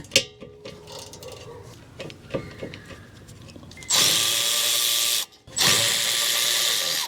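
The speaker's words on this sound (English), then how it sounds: "Now we just need to loosen and remove these two caliper slide pin bolts." Power tool loosening the 12mm caliper slide pin bolts on a 2017 Honda CR-V's rear brakes, with scattered clicks and taps before two loud whirring bursts, the second starting after a short gap.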